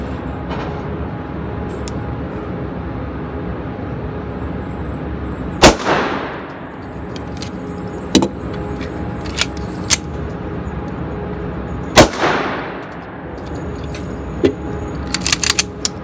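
A Taurus PT1911 pistol fires during a Dot Torture shooting drill: two sharp, loud shots about six seconds apart, with small clicks and handling noises in between at an outdoor range.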